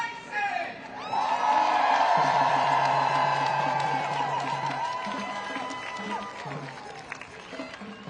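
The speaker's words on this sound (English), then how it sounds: "Let's give a huge round of applause for Anthony Bryson!" A protest crowd in Los Angeles cheers, whoops and applauds for a speaker at an anti-Trump rally, a loud sustained roar of voices and shouts with clapping mixed in, tapering off after several seconds.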